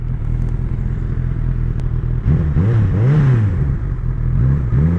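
A Honda CB1000R motorcycle with its stock exhaust rumbles at a steady deep idle, then revs up and down in several throttle blips, loud and close with no talking.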